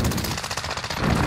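Armaguerra 43 submachine gun firing in Call of Duty, one loud rapid burst of closely spaced shots, rattling continuously at close range with no pause.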